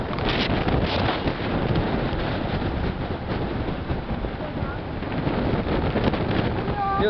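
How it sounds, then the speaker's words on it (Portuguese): Strong wind blows on a beach, roaring steadily into the microphone for the whole stretch, a dense buffeting rush with no pause. "tá uma ventania desgraçada"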